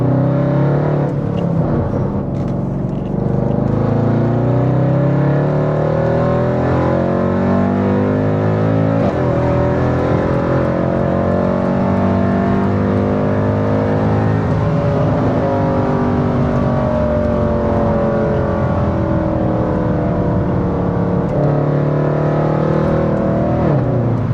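A Mercedes C63 AMG engine roars loudly and continuously, its pitch climbing repeatedly through the gears as it accelerates hard.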